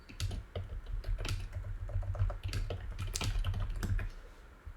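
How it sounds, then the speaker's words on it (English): A new computer keyboard clicks under quick typing, with a dense run of sharp, close keystrokes that keeps going steadily and is heard alone without speech. "If you guys can hear that, that's the clicks of my new keyboard."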